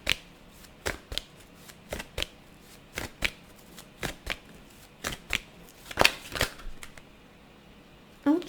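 A deck of oracle cards being shuffled by hand in a card-reading session, with repeated crisp riffling bursts at a steady, roughly one-per-second rhythm, close and clear with no voices.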